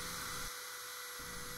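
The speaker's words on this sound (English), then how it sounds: "So I have to drill out a 5/16 inch hole." A drill bores a 5/16 inch hole for the pencil holder of a DIY beam compass, a continuous high whine that dips briefly as the bit bites, then resumes steadily close by.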